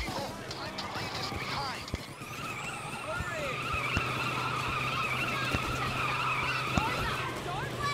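A car in the Payday 2 video game drives and skids, with a sustained tire squeal and engine drone over steady road noise, overlaid by voices talking.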